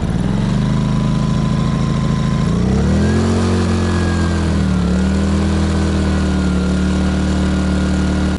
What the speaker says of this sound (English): see how many pulls this brand new generator takes to get started